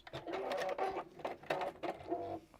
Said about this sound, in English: fold that back and top stitch